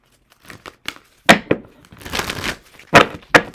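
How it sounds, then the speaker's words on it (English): A deck of cards shuffled during a card reading, heard as a series of sharp papery snaps and crinkling riffles, with a longer rustling run in the middle and two loud crisp bursts near the end, close up and with no talking. "at the bottom of this deck as I'm shuffling it"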